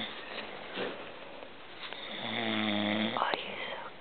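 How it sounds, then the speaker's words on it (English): A sleeping pet snores in a long, rhythmic rumble near the microphone, one drawn-out snore rising toward the end of a few seconds, with soft background murmur and faint whispering around it. "Oh, there's the snore again."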